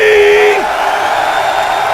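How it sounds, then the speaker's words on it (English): An audience at a StarCraft II tournament event cheers for a player, a loud sustained roar of crowd noise that follows the tail of an amplified announcer's voice. "If you out there would like to see oGsMC advance and do a rematch against Idra, give a cheer for oGsMC!"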